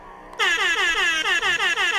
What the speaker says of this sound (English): Had to do the air horn.